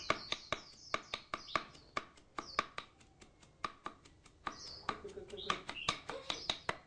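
A knife chops onions fast on a cutting board, a rapid run of sharp close taps with brief pauses, while a person talks over it.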